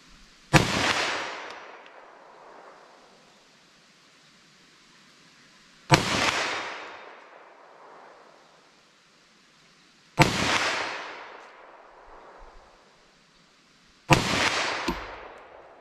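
Four sharp gunshots from a Liberty Overwatch 9mm fired into ballistic gel, each a loud close crack with a long ringing echo trailing off outdoors, spaced several seconds apart.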